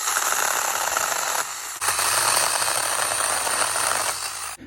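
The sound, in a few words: Tomyvic 6-inch cordless mini chainsaw cutting limbs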